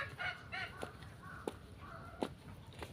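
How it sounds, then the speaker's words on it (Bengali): Village ducks and chickens in Kashipur, Barishal, cluck and call faintly at a distance, a few short separate calls and soft clicks over quiet outdoor background without talk. "গ্রামে মাশাআল্লাহ অনেক সুন্দর হাঁস মুরগি।"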